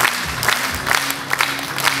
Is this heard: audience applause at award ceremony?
yes